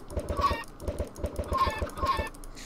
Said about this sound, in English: now we got a couple of chickens.